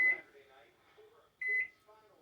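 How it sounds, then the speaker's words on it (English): A kitchen timer beeps twice as it is set, short sharp electronic tones separated by a pause, with quiet voice-like sounds in between. "I'm gonna set my kitchen timer"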